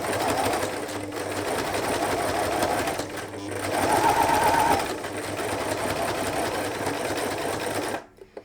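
A sewing machine stitches a straight line on a patchwork star cushion with a close, rapid mechanical whirring. It runs in several bursts separated by brief pauses, then stops abruptly near the end.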